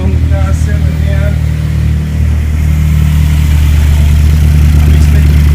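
A Mazda 6 MPS with a newly fitted GTX3071 turbo idles loudly and close, a steady deep engine drone with slight unevenness as it settles, while people talk faintly nearby.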